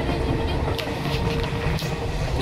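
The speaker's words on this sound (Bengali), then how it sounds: "এই ট্রেনটা এই লাইনটা চলে গেল নৈহাটিতে" A train runs along a Howrah division main line near Bandel, giving a loud, steady rumble and rush of wheels on rails throughout, with talk heard over it.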